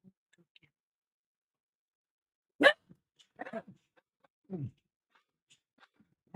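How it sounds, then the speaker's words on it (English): A dog barks indoors in a few short, separate bursts spread through an otherwise quiet room, fairly close and moderately loud. "I got a dog that's barking like somebody just broke in the front door"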